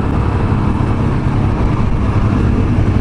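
A Kawasaki Z900RS motorcycle fitted with a K-Factory CSR+ full exhaust idles close by, a steady, even low rumble with fast regular pulsing and no revving.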